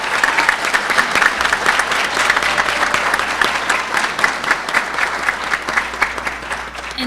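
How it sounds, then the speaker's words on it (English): A banquet hall crowd claps steadily for the Suffolk Peanut Festival court and queen, a dense, sustained round of applause with no voices over it. "please give a warm round of applause again to our court and our queen for 2014 Peanut Fest"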